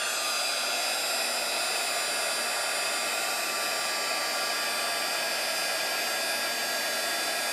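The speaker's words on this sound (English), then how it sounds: "And then as it dries with the heat tool, it's going to bubble up" A heat tool blows steadily to dry and set midnight gold craft paint, a continuous loud whooshing airflow holding unchanged for the whole stretch with no voices.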